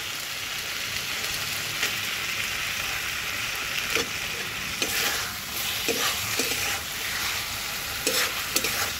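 Boiled potatoes going into a pan of tomato fish curry, soft thuds and scraping under a steady close sizzle of frying, with no talk.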